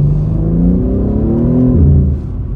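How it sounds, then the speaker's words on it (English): A BMW six-cylinder car engine revs loudly and steadily up and down, a smooth drone heard close, easing off at the end. "It still has the six-cylinder BMW engine"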